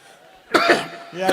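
A single cough bursts out, followed by a short throat-clearing rasp, close to the mic with faint voice sounds around it, during a Hindi comedy stage show.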